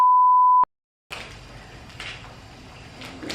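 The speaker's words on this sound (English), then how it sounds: "I'm just gonna leave it in and beep it" A single loud, steady censor beep tone holds for just over half a second, cuts off into brief silence, then gives way to faint background room noise.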